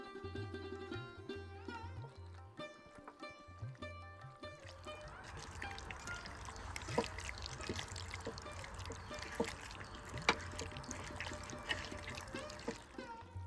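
Chicken pieces kneaded by hand with mustard oil, a continuous wet squelching and slapping that rises after a few seconds of soft music and keeps going steadily at close range.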